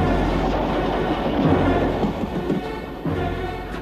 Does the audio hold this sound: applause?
no